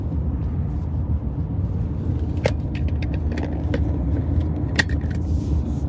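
Lexus LS400 sedan driving along a canyon road through a long corner, with a steady broadband engine and road rumble throughout and a few brief clicks and rattles over it, no talking.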